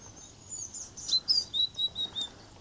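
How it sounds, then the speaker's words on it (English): Small tits chirp overhead on a very quiet morning by a Pembrokeshire pond, a run of thin high tweets repeating in quick bursts, fairly faint and with no talk. "There's a couple of birds above me, but I think they're tits."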